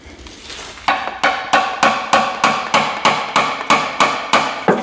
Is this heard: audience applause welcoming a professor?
no